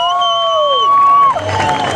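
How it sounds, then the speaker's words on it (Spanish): A stadium crowd at the MXGP motocross round in Talavera de la Reina, Spain, applauds and cheers for a rider. A sustained tone opens, then the cheering and clapping swell into a broad roar. "Ese aplauso también para Jorge."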